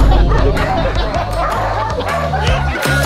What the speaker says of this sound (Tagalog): tumambad agad sa amin ang mga excited at gusto nang kumain ng mga aso